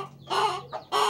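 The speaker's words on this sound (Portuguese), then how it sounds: "a galinha pegando aí" A hen clucks close by in the early morning, giving three short bursts of clucking with brief pauses between them.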